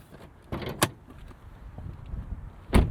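Hood of a 2024 Porsche Cayenne S with a 4-liter V8 being opened: a few sharp, close mechanical clunks and latch clicks against quiet surroundings.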